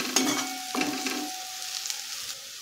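Turmeric being stirred with peanuts in a hot pan for poha, giving a soft steady sizzle and a couple of spatula scrapes, close and moderately quiet with no talking.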